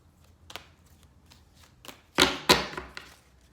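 Deck of oracle cards shuffled by hand: several light riffling flicks, then two loud, close, papery riffle bursts near the end, with no talking.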